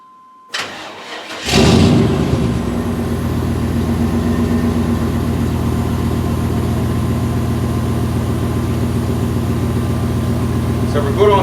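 A worn-out pickup truck engine cranks briefly, catches and settles into a steady, loud idle that runs close by for the rest of the stretch, with no talking over it.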